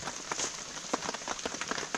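Rain falls steadily outdoors, a dense, even hiss of drops pattering on surfaces with scattered sharper taps, moderately loud and continuous throughout.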